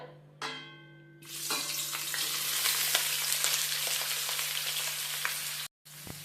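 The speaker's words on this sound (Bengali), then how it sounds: "তেল গরম হয়ে গেছে এবার আমি দিয়ে দেব আলু আর ফুলকপিটা" Potatoes and cauliflower drop into hot mustard oil and burst into a loud, steady, crackling sizzle that fills the frame at close range before cutting off briefly near the end.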